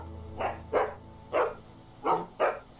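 A dog in The Walking Dead game barks five times in a loose rhythm, near and clear, with short gaps between barks and no talking.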